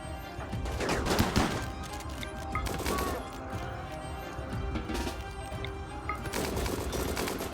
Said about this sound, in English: I just skewered it with slugs.